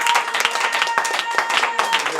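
A church congregation claps in a steady, brisk rhythm and cheers the Lord at an Easter resurrection service. The clapping is loud and close, with voices and crowd noise running underneath.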